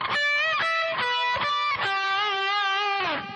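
Distorted electric guitar finishing a metal lick: a quick burst of picked high notes followed by a held, bent note that slides down, loud and close with no voices.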